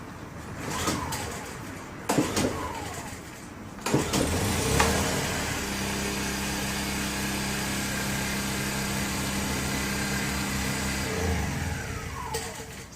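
A Honda EU10i inverter generator is pull-started after a few rattling cord pulls, then catches and settles into a steady, fairly quiet engine hum that runs evenly close by.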